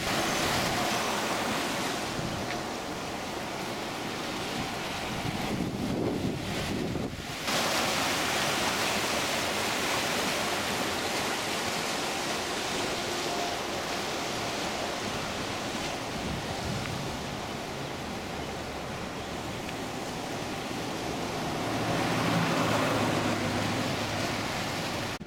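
Clear Creek, a mountain stream in Silver Plume, Colorado, rushes in a steady broadband roar for about 25 seconds, close and continuous, with a short dip and a swell near the end and no talking.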